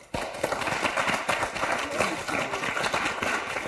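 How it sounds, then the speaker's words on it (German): Applause from a studio audience welcoming guests to a German reality-show reunion, a dense continuous wash of clapping heard close and steady throughout, with faint voices underneath. "Ein Applaus für euch"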